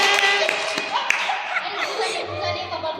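A group of girls on a beach outing clap in scattered bursts while talking and laughing over the top.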